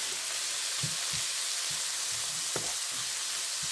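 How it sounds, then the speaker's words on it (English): Softened vegetables sauté in a pan for linguine with shrimp and salmon, a constant close sizzle broken by several soft scraping stir strokes at irregular intervals, and nobody speaks. "I'm going to saute that for a minute"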